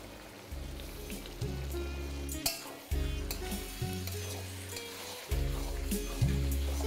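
Mutton frying with turmeric, Kashmiri chili powder and salt for mutton khichuri, a soft sizzle with repeated stirring scrapes and clinks, plus a low tonal hum in the background.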